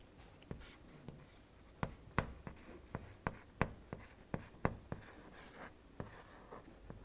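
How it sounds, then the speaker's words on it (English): Chalk tapping and scraping across a board as a teacher writes out a single word, a lesson on a human skin disorder; a steady series of sharp, close knocks and short strokes, with no talking. "but let me write it here."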